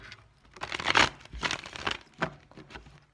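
Quick papery riffling and slapping of tarot cards being shuffled, several close bursts in an uneven rhythm.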